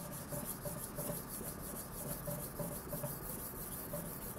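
An SKD-11 steel petty knife, a Yoshikane 180mm at 64 HRC, is sharpened freehand on a whetstone with mud, giving a rhythmic wet rasping scrape that repeats back and forth at close range, alone.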